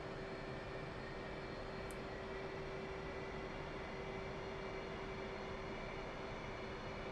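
An F/A-18C jet in DCS World holds a steady, loud engine roar with a constant whine throughout, a continuous run-up drone with no voices.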